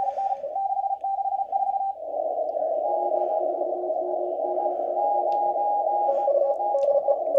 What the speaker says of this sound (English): This radio does have a good CW filter in it.